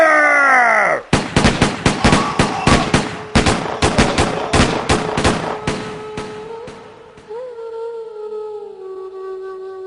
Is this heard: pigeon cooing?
no